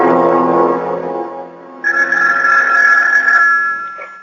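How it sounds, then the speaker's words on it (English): A telephone rings insistently in a radio drama, a bright electronic trill that pauses and then resumes louder and steadier, heard alone without voices. "Do something about that confounded phone."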